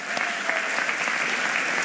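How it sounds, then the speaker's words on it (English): An audience applauds the Philadelphia mayor at a 100th-day-in-office celebration, with steady, dense clapping from a crowd throughout and no break. "can we give another round of applause for our mayor on this 100th day"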